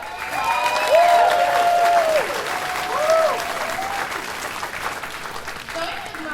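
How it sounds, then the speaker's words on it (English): Convention audience applauding a speaker, full steady clapping throughout with voices mixed in over it. "Let's give Candace another round of applause."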